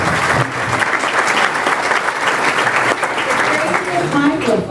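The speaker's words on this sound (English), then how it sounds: "let's give him a big applause." Lunchtime crowd at a political luncheon in Tucson applauding, dense continuous clapping at a fairly loud level, with voices talking over it near the end.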